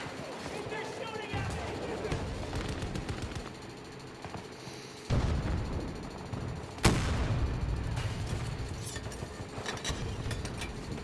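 Gunfire in the video game Battlefield 2042, dense crackling rifle and machine-gun bursts with sharp loud reports and a heavy blast, continuous across the scene with distant battle noise.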